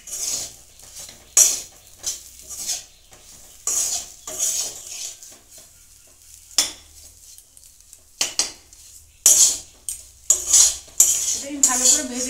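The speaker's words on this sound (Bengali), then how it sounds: "এবার আমি এটা খুব ভালো করে একটু ভেজে নেব।" Gram flour (besan) being fried and stirred in a pan for green pea kachori filling, with a spoon scraping and clinking against the metal in irregular bursts, close and moderately loud, with no one talking.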